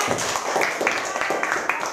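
Children clap together in a classroom after a lesson, a brisk patter of many small hands at moderate volume, fairly close, with the rhythm loosening toward the end.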